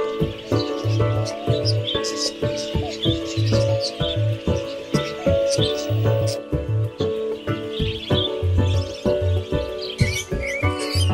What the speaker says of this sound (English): The boisterous rainbow lorikeets are some of the most sociable, noisy, and acrobatic of parrots